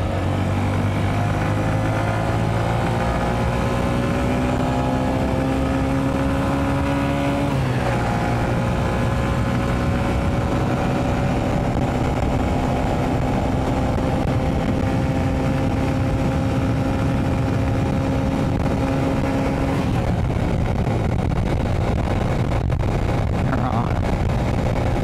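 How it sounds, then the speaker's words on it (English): A motorcycle engine drones steadily while riding on the open road at around highway speed into a slight headwind, its pitch dropping briefly then holding level under wind rush, with a shift near the end. "Let's see if the bike wants to do 100 k's an hour today."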